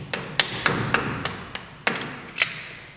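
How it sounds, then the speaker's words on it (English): A hammer strikes a spin nut on a truck brake axle, giving about nine sharp metallic taps at uneven intervals over a low background hum, close and moderately loud. "you can take this spin nut and you can hit it with a hammer and take it off"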